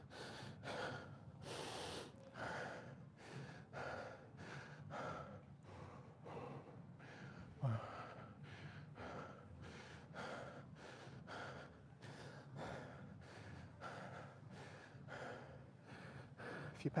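Heavy, rhythmic breathing during weightlifting, a long run of forceful gasping inhales and snorting exhales close to the microphone, repeating at a steady pace with one brief louder knock midway.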